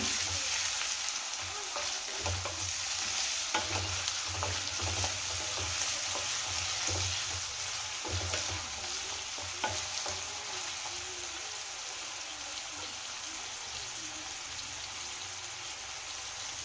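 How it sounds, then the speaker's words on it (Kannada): Vegetables for veg hakka noodles stir-fry in a hot pan, giving a continuous close sizzle with occasional scraping and stirring sounds and no talk. "ಫ್ರೈ ಆಗಬೇಕು ನೋಡಿ ಈ ರೀತಿ ಚೆನ್ನಾಗಿ ಎಲ್ಲನೂ ಮಿಕ್ಸ್ ಮಾಡ್ಕೊಳ್ಳಿ"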